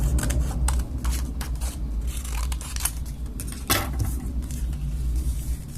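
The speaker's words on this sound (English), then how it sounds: "Now let's fold this in half, cut it in two" Scissors snipping through a folded sheet of paper while making a paper Huggy Wuggy figurine, a run of quick crisp cuts and scrapes close up over a low steady background hum.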